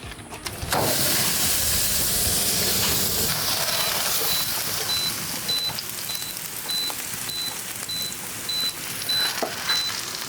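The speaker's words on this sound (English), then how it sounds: "The grill's at 700 degrees. Let's sear these babies off." Fullblood Wagyu tomahawk steak, reverse seared and rested, hitting a 700-degree grill, giving a loud steady sizzling hiss that holds for the whole stretch with faint pops and crackles.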